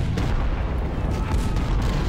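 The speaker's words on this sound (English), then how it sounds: "The cavalry is being hit by a grape shot from the artillery." Artillery in Ultimate General: Civil War fires grape shot at cavalry, producing a dense, rumbling wash of distant booms and crackling impacts that runs without a break.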